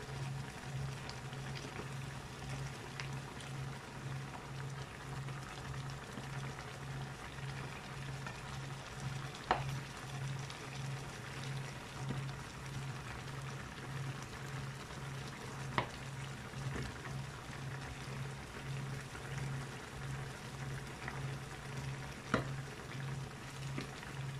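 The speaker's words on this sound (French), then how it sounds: "Et on va laisser mijoter tout ça." Filet mignon with white wine, forest mushrooms and herbes de Provence simmers in a pan, giving a soft, even sizzle and bubbling that continues steadily, with a few faint clicks.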